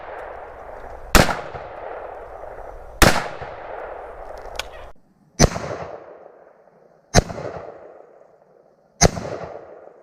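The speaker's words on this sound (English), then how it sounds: "So he put 3 rounds downrange here at the target" Five sharp AR-15 rifle gunshots fired at a sheetrock target outdoors, spaced about two seconds apart, each a loud crack followed by a decaying echo with no talking.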